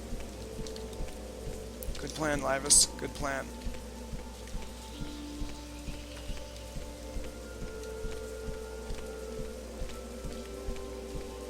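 Steady rain falling in the video game Morrowind, a soft continuous patter running through the whole stretch, with someone speaking briefly over it near the start.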